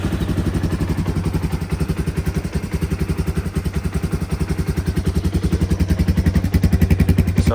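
A Yamaha Warrior 350 ATV engine, started cold, chugs with a fast, uneven pulsing rhythm, loud and close, cranking and sputtering as it struggles to catch and run.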